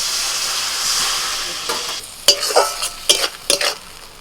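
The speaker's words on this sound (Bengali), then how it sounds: "এবার অল্প করে জল দিয়ে মশলাটা কষিয়ে নেব" A spice paste with tomato, turmeric and Kashmiri chili powder sizzles loudly in a pan, then the hiss drops away and a spoon scrapes and knocks against the pan in several sharp strokes.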